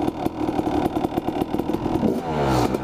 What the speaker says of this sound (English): let this guy warm up a little bit. He's got the choke on.